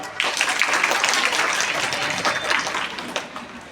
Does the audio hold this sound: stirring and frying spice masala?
no